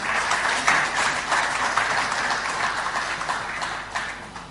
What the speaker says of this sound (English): Please join me in clapping and thanking our people in the region.